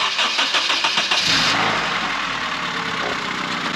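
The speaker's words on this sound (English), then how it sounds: "Go ahead and start the car" An Acura RSX with a tucked AC system starts up: a brief cranking burst gives way to a steady mid-pitched engine idle, close and loud, with no talking over it.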